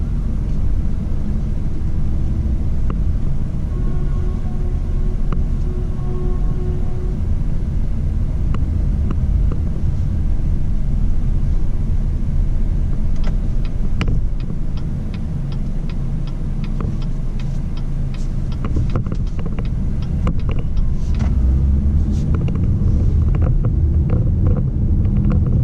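A 2019 Chevy Equinox with a 1.5-liter turbo engine drives along. A steady low cabin rumble and road noise continue throughout, joined midway by a run of faint, regular ticks.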